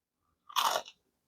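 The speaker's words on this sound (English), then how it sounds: "Hear that crunch?" One sharp, close crunch of teeth biting into a crispy fried chicken tender, a brief burst of crackling alone in silence.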